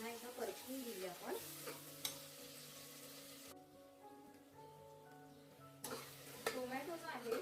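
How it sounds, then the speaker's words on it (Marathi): Chopped tomato and onion fry in a pan for mutton biryani, a soft crackling sizzle with occasional stirring scrapes, faint and steady beneath tonal background music and a voice. "हा टोमॅटो एक 5 मिनिटं पुन्हा एकदा परतून घेऊया आपण"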